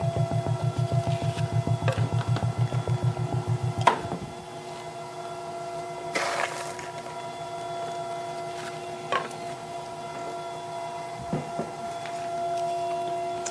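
An ice cream machine churning Speculoos cookie butter ice cream gives a steady mechanical hum with a rhythmic pulsing drone at first, then a continuous whir broken by a few brief clunks and scrapes.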